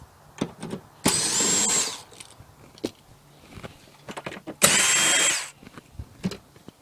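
A power tool drives out 10 millimeter bolts on a Lexus GX460, giving two loud sustained drill runs of about a second each, separated by small clicks, handling noises and quiet gaps.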